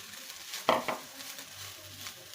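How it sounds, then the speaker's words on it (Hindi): A spoon or spatula stirs and mixes cooked rice with capsicum and vegetables in a frying pan for restaurant-style fried rice, giving a couple of brief scraping clinks over a soft, steady background sizzle. "ज़्यादा नहीं चलाना है क्योंकि चावल जो है हमारे पकी हुई हैं। बस जस्ट मैं इसको मिक्स करूँगी।"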